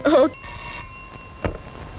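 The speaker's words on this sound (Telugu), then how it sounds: "సార్ మీకు ఫోన్" A telephone rings in an agency office, a brief shrill bell burst followed by a sustained tonal ring that fades, with a faint knock near the end.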